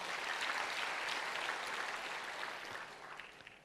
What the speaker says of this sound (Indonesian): Kasih tepuk tangan yang meriah buat Tuhan.